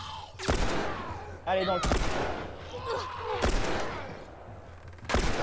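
Gunfire in The Last of Us video game, several loud sharp bursts of shots spread across the moment, with a player's voice talking between them.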